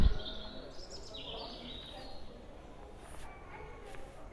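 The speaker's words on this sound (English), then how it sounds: "And you can hear the birds." Birds chirp intermittently in the distance over a steady outdoor ambience at the Eden Project, soft high calls scattered through a calm scene.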